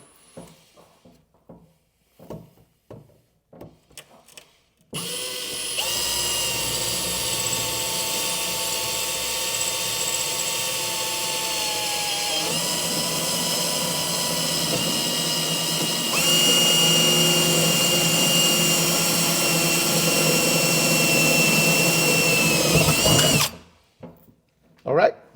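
A power drill bores a hole while installing a generator slide out, a loud continuous whine running about eighteen seconds with a pitch shift partway through, preceded and followed by brief knocks and handling.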